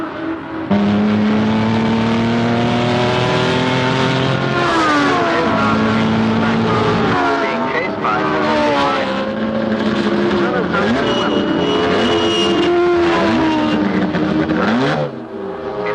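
A race car's engine roars steadily during a motor race, its thick, laboured note rising and falling in loud sustained pitch sweeps with voices mixed in, before cutting off near the end.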